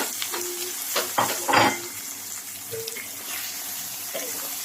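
Chicken liver sizzling as it fries in a pan with onions, with a steady crackling hiss broken by a few louder stirring bursts, close by.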